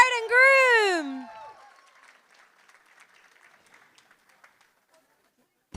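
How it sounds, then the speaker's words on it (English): Wedding reception guests applaud the bride and groom; a loud voice with rising pitch opens the moment, then scattered light clapping trails off quietly for several seconds before fading to near silence. "Another round of applause for our beautiful bride and groom"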